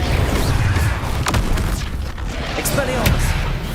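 Confringo explosive spell cast in the video game Hogwarts Legacy, a deep rumbling boom with scattered crackling impacts and a few sharp cracks over a steady low roar.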